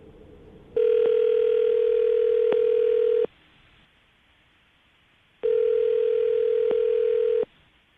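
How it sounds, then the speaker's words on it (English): Two long electronic ringback tones, each about two and a half seconds, separated by a pause with faint background hiss. "I'm going to call him right now, see if we can get him to answer his phone"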